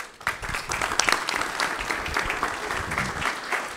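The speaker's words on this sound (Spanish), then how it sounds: "Vamos a homenajear, a aplaudirle nuestra bandera argentina, la bandera francesa y nuestra bandera rotaria con todo el cariño que podamos dedicarle." An audience at a Rotary Club gathering in Buenos Aires applauds the Argentine, French and Rotary flags, a burst of warm, moderately loud clapping from a roomful of people that continues steadily for several seconds.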